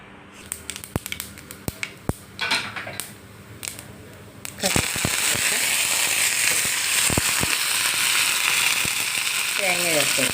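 Mustard seeds and urad dal hit hot oil for a brinjal dish: scattered sharp pops come first, then a loud, continuous sizzling crackle takes over for the rest.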